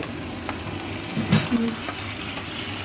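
Boiled cabbage momo filling stirred in a pan with ginger, a spoon scraping and clinking against the metal under a low steady sizzle, with a few soft taps.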